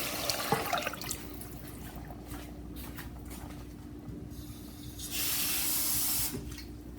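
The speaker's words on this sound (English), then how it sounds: "This is exactly 2 cups of water." Water pours and splashes steadily into a pot, about two cups, with a louder rushing stretch near the end.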